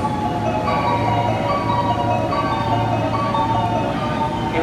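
A departure melody plays over the platform 9 speakers at Omiya Station for a Koganei-bound train. The tune is steady and moderately loud against the platform's ambient hum and echo, and no one speaks.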